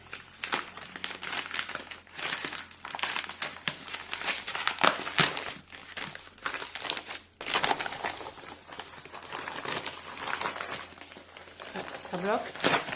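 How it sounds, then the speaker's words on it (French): A large parcel of manga is opened, with plastic and paper packaging crinkling and rustling almost continuously, close and fairly loud, while a person talks. "on va ouvrir le dernier colis"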